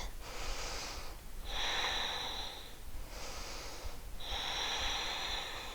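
Deep, steady yoga breathing, alternating long airy inhales and exhales, four full breaths in a slow even rhythm, close and fairly loud with no talk.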